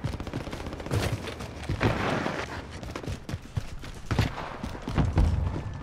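Rapid bursts of gunfire crackle and pop in uneven volleys in Call of Duty: Warzone, mixed with thuds and game effects, loud and busy throughout.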